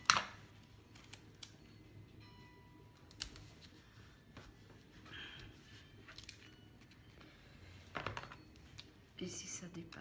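Scissors snip paper in a few short, crisp cuts amid quiet crafting handling noises, with soft whispered talk nearby.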